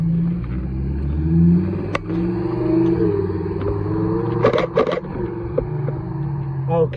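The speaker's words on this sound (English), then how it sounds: "Audi R8 Performance Parts Edition. One of four in the UK." An Audi R8 Performance Parts Edition drives past as cars leave a supercar festival, its engine a loud, deep, close rumble that swells and fades, with a few sharp clicks and people talking nearby.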